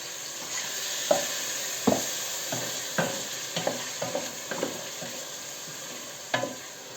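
Homemade tomato paste fries in a pan, a steady soft sizzle broken by a few sharp clicks and scrapes of a spoon stirring it, close up and without talk.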